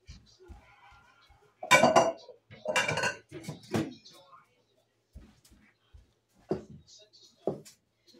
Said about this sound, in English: I'm going to get a big bowl